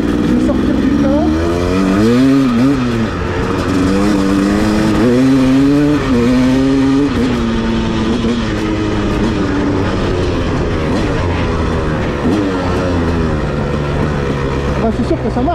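Suzuki RM125 two-stroke dirt bike engine on a meadow, revving unevenly and sputtering with wavering pitch, loud and near for the whole stretch.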